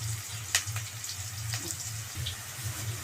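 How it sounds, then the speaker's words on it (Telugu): Ingredients sizzle in a frying pan on the stove, a steady close crackling hiss with faint pops, over a low continuous hum. "ఇవి బాగా మంచిగా వేగనియండి ఫ్రెండ్స్,"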